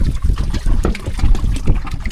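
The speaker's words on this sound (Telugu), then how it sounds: "నీళ్ళు పోసుకుంటూ కడుగుతాం" Water is poured over a tractor being washed in the Godavari river, loud sloshing splashes coming in rapid bursts against a low engine-like rumble.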